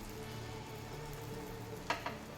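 Tomato and whole green chillies fry in oil for a boal fish curry, making a quiet, steady sizzle with two brief stirring clicks near the end.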